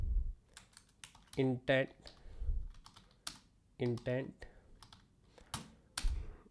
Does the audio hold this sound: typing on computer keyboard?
yes